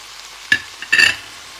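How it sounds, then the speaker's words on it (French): A spoon scrapes and stirs seasonal vegetables with added spices in a pan, two quick close stirring strokes over a faint background sizzle. "On mélange bien."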